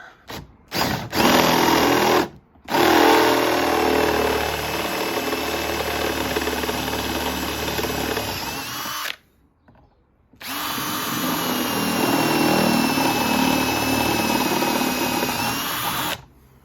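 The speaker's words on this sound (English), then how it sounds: "Drilling these out to accommodate an 8mm bolt." A loud power drill with a step bit grinds steadily through metal in long bursts, widening holes for an 8mm bolt, stopping briefly twice before starting up again, with no talking.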